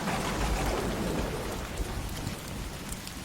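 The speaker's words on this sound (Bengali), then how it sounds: "এই বৃষ্টি শুরু হয়ে গেল।" Heavy rain pours steadily on a stormy night, a dense, continuous wash of drops with a low rumble underneath, loud and close throughout with no voices.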